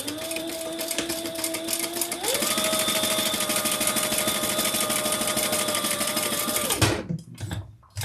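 A sewing machine runs a bag seam in one steady, close whirring stretch that rises in speed partway through, then stops abruptly, leaving a few quiet handling clicks.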